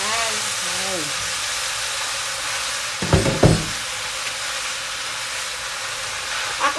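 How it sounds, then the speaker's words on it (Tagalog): Pasta for a creamy pesto dish sautéing in a pan gives a steady, even hiss and sizzle, with a short clatter of stirring midway and a voice briefly at the start. "Igisa lang natin yung ating pasta."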